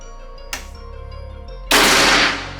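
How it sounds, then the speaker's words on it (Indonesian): A single sharp shot cracks out from a PCP air rifle, and a louder burst of hissing noise follows a second later over a steady low hum. "Oke, kita coba tembakan yang berikutnya"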